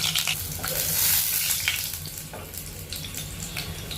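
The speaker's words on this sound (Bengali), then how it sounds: "মায়ের মধ্যে দিয়ে দিচ্ছে চার পাঁচ কুয়া রসুন" Four or five garlic cloves frying in oil for a jute-leaf dal, a steady close sizzle with occasional stirring scrapes and faint water-like crackle throughout, no talking.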